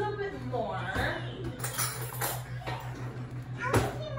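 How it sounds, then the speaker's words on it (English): Oven timer in a home kitchen, short ping-like electronic tones sounding a few times while someone talks over them, along with light clinks of pans and utensils. "That is the oven going off for my purple potatoes."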